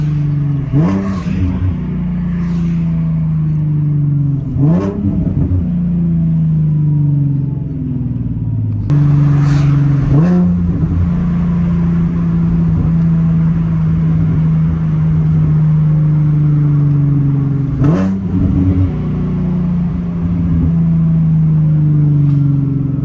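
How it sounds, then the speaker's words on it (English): A Nissan 370Z Nismo with art pipes and the stock Nismo exhaust revs up several times, each sharp rise in pitch falling back to a loud, steady idle close by, with no talking. "Yeah, I love these art pipes, man. These art pipes sound so good."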